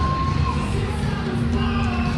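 Crowd at a wrestling event cheering and shouting, a dense, loud wash of many voices that holds steady through the short stretch.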